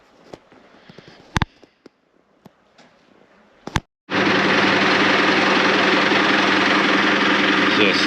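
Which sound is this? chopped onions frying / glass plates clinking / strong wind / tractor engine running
tractor engine running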